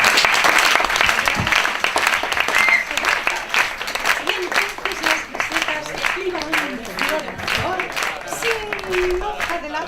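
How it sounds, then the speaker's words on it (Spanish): Audience applause at a theatrical cabaret-style street performance, dense continuous clapping from a crowd, loud and sustained with voices and shouts mixed in throughout. "Dando palmas."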